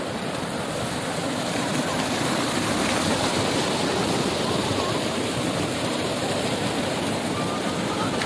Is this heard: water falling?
yes